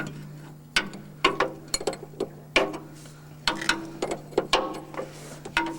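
On a Rolls Royce Silver Cloud, the brake servo is being turned by hand through the prop shaft, giving a series of irregular metallic clicks and clinks close by over a steady low hum.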